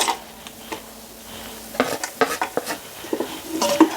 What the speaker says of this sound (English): And then I'm going to go in with the diced onions.